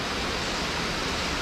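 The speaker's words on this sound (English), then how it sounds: "A mini waterfall up there." Water from a small waterfall at Yuanyian, Taiwan pours in a steady, broad rush that fills the whole short stretch, moderately loud and unbroken, with no voices.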